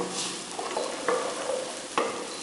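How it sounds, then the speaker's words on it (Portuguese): Onion and garlic brown in a pan for a risotto, giving a quiet steady sizzle with a couple of short stirring clinks, and no one speaks. "E aqui a cebola, o alho dourando."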